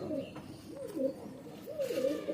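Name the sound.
pigeon cooing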